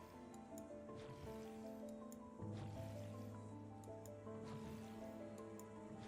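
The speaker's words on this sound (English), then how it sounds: "Little gross water sound." A gross, wet squishing water sound in a video game, soft and fairly quiet, with repeated squelches over sustained tonal music.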